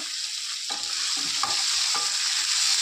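Tomato and eggplant curry cooks in hot oil in a pan, with a steady sizzle broken by a few scraping stirs of a spoon, close and alone without any talk.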